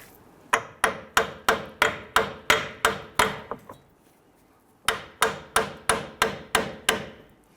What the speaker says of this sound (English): Once you have that nut off there, we want to go ahead and tap that through.